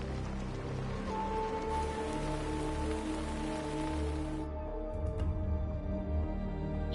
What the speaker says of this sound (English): Let the rain shower over you and wash away your sorrows.